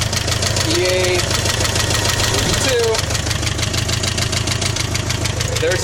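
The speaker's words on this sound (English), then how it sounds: "There's the motor, Subaru," The Subaru EA engine of a 1986 Subaru GL runs close by at a steady idle with a rhythmic ticking knock, and a few faint voice-like sounds rise briefly over it.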